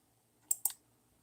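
A pair of crisp computer mouse clicks on a secondhand GPU listing, close and fairly quiet, the second following about a tenth of a second after the first, alone in a quiet room.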